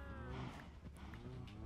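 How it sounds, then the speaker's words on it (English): Cows mooing in the video game Minecraft, several drawn-out low moos overlapping against a busy background of game sounds, fairly close and prominent. "God, those fucking cows."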